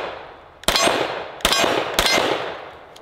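Three sharp, loud rifle shots ring out close by, with uneven gaps between them and a clanging, reverberant tail after each crack.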